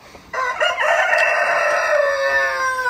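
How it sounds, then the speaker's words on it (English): A rooster crows once in a long, loud, drawn-out call that rises and then trails off, close by and clear, with no voices over it. "Rooster says it's bedtime or time to get up."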